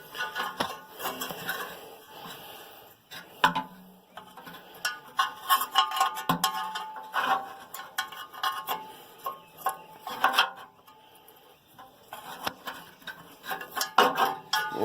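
Metal tool clinks and scrapes while loosening a bolt on the water pump of an International B275 tractor, a string of irregular close clicks and knocks with short gaps, with no talk.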